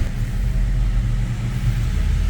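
An Omoda 5 engine running on LPG on a dynamometer, a loud, steady, close low-pitched rumble holding at an even drone with no break or rise, with no talking.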